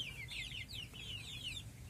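One-month-old crossbred kampung pelung chicks cheep and cluck in a flock, a continuous run of high, rapid peeping calls, fairly faint, over a low background hum.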